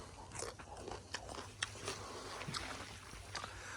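Someone bites into fresh, crisp jujube fruit outdoors in a vegetable garden, with a few sharp crunches and quiet chewing close by over a soft background hiss.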